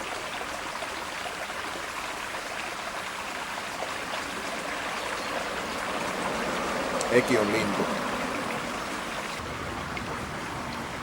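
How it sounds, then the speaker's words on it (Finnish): Flowing river water rushes steadily as a broad, even wash of noise close by, while a voice speaks briefly over it. "Joki. Virtaava vesi."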